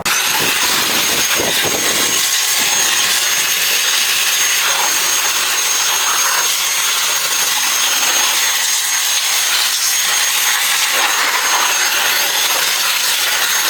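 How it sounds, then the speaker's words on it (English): Leaf blower roaring loud and close as it blows water off a Mercedes SL500 engine bay, a steady high-pitched jet-like rush with a few rougher bursts at the start, continuous and alone. "Now I'm going to blow this off with my leaf blower."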